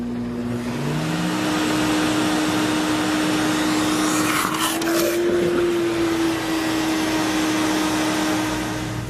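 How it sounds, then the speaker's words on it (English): A Sirena water-filter vacuum cleaner runs in wet pickup mode, giving a steady, close, loud motor drone with a sustained tonal whine. The whine swells briefly mid-run, and no one speaks. "The Sirena will also function as a wet pickup vac."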